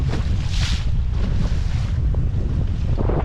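Heavy wind buffeting the microphone while fishing for smallmouth bass on the Columbia River, a loud, steady low roar with gusts and no voices.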